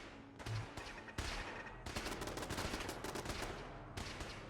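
Pistol gunfire in Fallout 4, a series of sharp shots in quick bursts with a near, loud, crackling attack and a busy run of rapid reports in the latter half.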